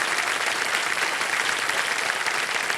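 Studio audience on a TV quiz show set applauding, a dense, steady wash of loud clapping throughout with no voices over it.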